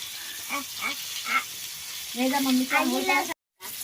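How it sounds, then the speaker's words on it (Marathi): Pomfret fish fries on a tawa over a gas flame in a Konkan home kitchen, with a steady close sizzle under voices talking, and a brief dropout near the end. "आता हे मामी मच्छी फ्राय करते ताव्यावर"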